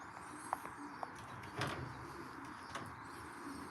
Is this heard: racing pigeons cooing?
yes